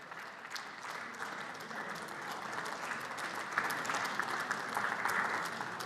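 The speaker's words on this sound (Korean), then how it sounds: "먼 발치에서 박수를 치는 박수 소리가 들리고도 있고요" Applause from lawmakers in the National Assembly heard from a distance, a faint, steady patter of many hands clapping that builds slightly and continues throughout with no one talking over it.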